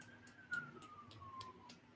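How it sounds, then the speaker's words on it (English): Distant ambulance and police sirens in a small town, a faint wailing tone slowly gliding downward across the whole stretch, with soft repeated tapping sounds over a low background hum. "Ambulance and police sirens."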